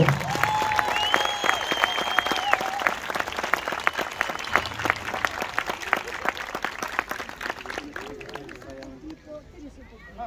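Loud applause breaks out at an awards ceremony for school marching bands, dense clapping running several seconds and thinning toward the end, with voices and a brief tonal sound near the start.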